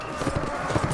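Horse hooves clop in quick, muffled succession during mounted combat in the video game Mount and Blade Warband, forming a dense rhythmic patter over a busy mix of game noise.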